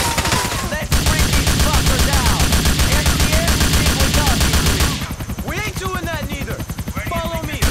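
A helicopter hovers overhead in the video game GTA 4 while bursts of gunfire rattle almost continuously, loud and dense, with the shooting thinning briefly near the end as the rotor drone carries on.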